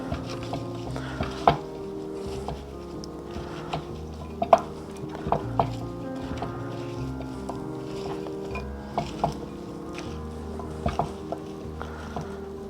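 Salted potato fries being tossed and mixed with a flour, black pepper and salt coating in a bowl, with soft rustling and irregular clinks and taps of a utensil against the dish.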